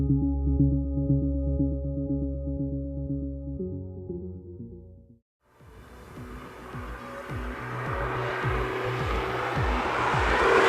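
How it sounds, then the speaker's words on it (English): A 2014 Aston Martin Vanquish V12 engine: a deep steady drone cuts out briefly, then the engine roars back up, revving hard and loud as the car exits a corner, with rising harmonic pitch. "exiting out of a corner and just listening to that V12 sing"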